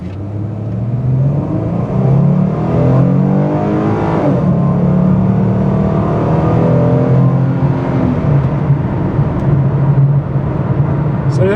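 A 2011 Ford Mustang V6 engine revs hard and accelerates from 0 to 60, its pitch climbing through several gear shifts, loud and close.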